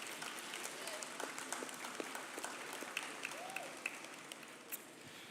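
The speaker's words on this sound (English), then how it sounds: "Stand and give them a big round of applause." A white coat ceremony audience gives a round of applause, a faint, distant wash of clapping with scattered sharper claps and some murmured voices.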